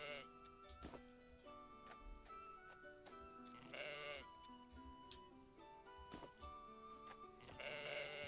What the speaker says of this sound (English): Okay, here are my sheep.